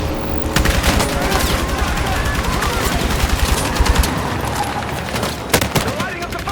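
Dense gunfire in the Battlefield 6 video game campaign, loud bursts of automatic fire and overlapping shots rattling continuously, with a few sharper cracks near the end.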